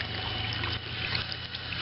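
Water runs steadily from a tap, a brief continuous close rushing sound with no talk.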